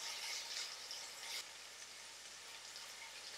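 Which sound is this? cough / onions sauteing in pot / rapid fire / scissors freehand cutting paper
onions sauteing in pot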